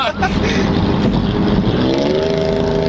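A V6 single-cab Chevrolet Silverado with a center-exit exhaust rumbles close by, its engine note climbing steadily as it revs, while people talk over it.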